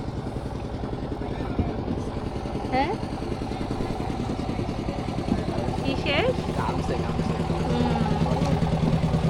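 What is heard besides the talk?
engine of a motorized boat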